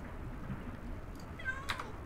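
Minecraft cat meowing in a game world, a short faint meow or two standing out late in the moment over a low background hum, with no talk.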